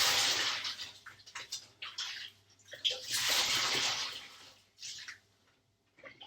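Wool yarn skeins plunged in and out of a basin of rinse water, making repeated heavy sloshes and splashes with dripping between, close by and fairly loud, fading to quiet trickles at the end.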